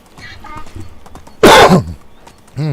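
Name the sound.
cough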